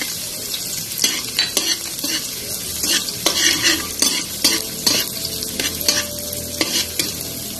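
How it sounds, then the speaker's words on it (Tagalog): Garlic and onion sauté in a hot pan for ginisang sayote, sizzling steadily while a utensil stirs and scrapes the pan in repeated clacks, up close. "Igisa na natin yung bawang. Sabay na natin yung sibuyas"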